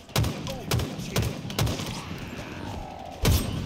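Mangler revolver firing in Halo Infinite Firefight mode, with about six heavy booming shots at a steady, spaced rhythm under a rumbling game background.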